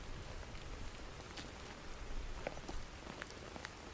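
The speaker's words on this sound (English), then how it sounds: "A soft rain fell under the street lamps." Soft rain falls steadily at night on a street under lamps, a fine continuous patter with scattered droplet taps, quiet and close, with no voices.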